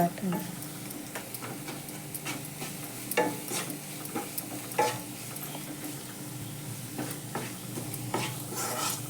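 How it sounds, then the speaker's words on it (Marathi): Peeled mung beans tipped into a hot frying pan for a Marathi-style usal, giving a soft, steady sizzle with scattered light ticks and stirring clinks, fairly quiet throughout. "आता हे सोडलेले मूग घालते"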